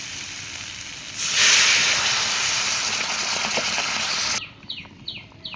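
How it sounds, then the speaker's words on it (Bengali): Water poured into a hot pan of potato curry for fish curry, a sudden loud burst of hissing steam that holds for a few seconds and then drops away into softer bubbling. "এখন জল দিয়ে দেবো"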